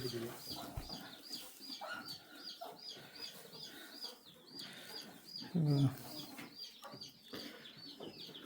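Chickens at a traditional hillside farm clucking and chirping in repeated bursts while being given feed, faint and somewhat distant, with rustling and brief voices nearby.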